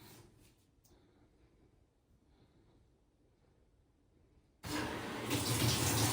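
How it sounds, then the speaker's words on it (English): Water rushes suddenly into a Whirlpool washing machine as it begins to fill, a loud steady hiss of flow after several seconds of near silence. "the sensing fill light is on and the water is filling"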